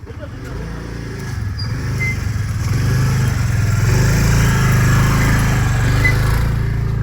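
A motorbike engine rumbles steadily and grows louder as it passes close by on a rural road at dusk, a sustained low drone filling the whole stretch.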